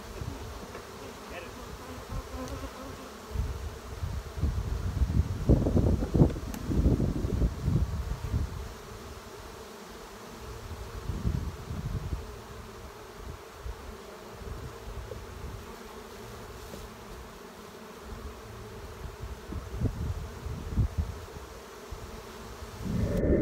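Honey bees buzz steadily around hives in an apiary during a hot-weather honey flow, a dense, continuous hum that swells louder at moments as bees pass close, with no talking.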